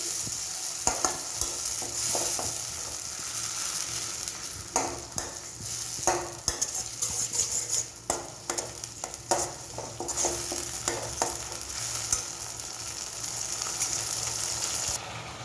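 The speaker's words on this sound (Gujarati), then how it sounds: "હવે તેની અંદર આપણે ટમાટરની પ્યુરી બનાવી હતી તેને એડ કરી દઈશું. અને એને પણ બરાબર સાંતળી લઈશું." Tomato puree sautéing in a pan for a Gujarati roasted brinjal dish (ringan no olo), a steady close sizzle broken by repeated scraping stirs and clinks, with no talking.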